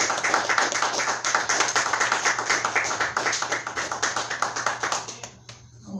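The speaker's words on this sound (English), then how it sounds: "give God a hand clap." A church congregation claps hands in a fast, even rhythm during a sermon, many hands together in a steady burst that fades out near the end over a low background hum.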